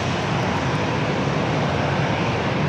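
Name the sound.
airplane at San Diego airport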